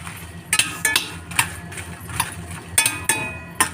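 Spice powder ingredients for tamarind rice dry roasting in a pan without oil, with repeated sharp clinks and scrapes of a spoon against the metal pan in an uneven rhythm over a low background hum.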